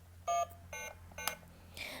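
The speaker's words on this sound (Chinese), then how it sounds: "那我们在按它的按键的时候，它会发出不同的" Keypad buttons on a toy retro telephone with light and sound modes give short electronic beep tones, three or four distinct presses in quick succession, each a clean pitched blip, close and fairly loud with no talk.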